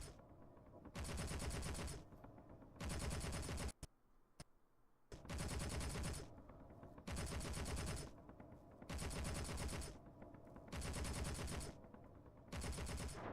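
Turret fire in the space game Space Engineers rattles in long sustained automatic bursts of about a second and a half, separated by short pauses, loud and dense with no talking.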